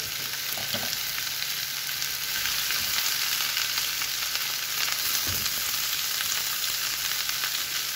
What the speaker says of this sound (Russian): В разогретую сковороду добавляю немного растительного масла. И кабачки буду жарить два приема, чтобы они сразу схватились